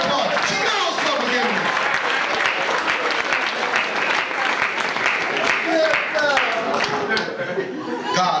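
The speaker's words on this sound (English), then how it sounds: "Give her a big round of applause." Audience applause at a religious lecture, a steady wash of clapping filling the room throughout, with scattered chatter and light laughter mixed in.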